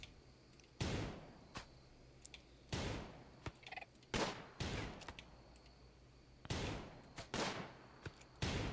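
Colonists in the video game Rimworld fire on a tortoise in repeated loud gunfire bursts, some long and sustained, others short single cracks, spaced irregularly over several seconds with no talk.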